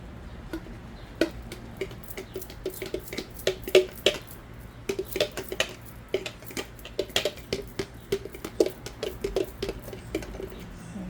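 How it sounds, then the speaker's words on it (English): A spoon stirs salmon macaroni salad with mayonnaise in a bowl, giving soft irregular clicks and wet scraping taps at a steady pace, close and quiet, with no voices. "we'll use this spoon to mix"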